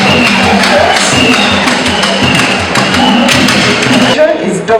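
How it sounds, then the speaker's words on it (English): Guests at a university graduation ceremony applaud loudly, dense overlapping hand claps and some cheering sustained for several seconds, close and continuous before tapering near the end. "Let us give a befitting hand clap"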